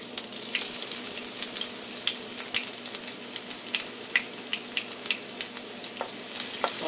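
Garlic fries in hot oil for spinach moong dal, giving a steady crackling sizzle dotted with sharp pops and spatters, close and moderately loud with no voices.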